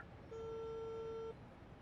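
A single steady electronic ringback tone, about one second long, sounds faintly on a telephone as a woman places a call, with low background hum before and after it.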